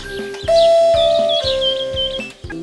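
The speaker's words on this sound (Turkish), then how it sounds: "Hadi bakalım zili bir çalalım." An electronic doorbell chimes a few bright tones over a steady background hum and light music, no voices.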